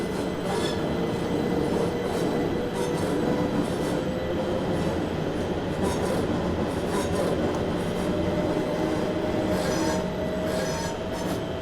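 A London Overground train pulling away in Train Simulator 2020, a steady loud rumble of rolling wheels and motor with a slowly rising whine and intermittent high squeals from the rails.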